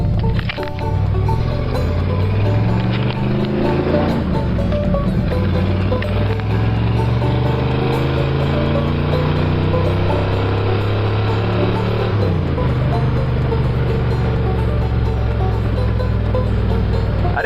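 A 1955 Ford runs slightly rough while being driven. The engine drones loudly and continuously, with its pitch rising and falling as it pulls and shifts.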